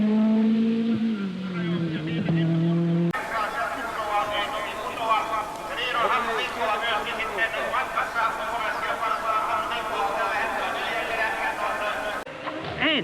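A Peugeot 205 T16 Group B rally car blasts through a tarmac town-street stage in Jyväskylä, engine revving hard, then a rougher, busier roar of the car on the move, with a voice commentating over it.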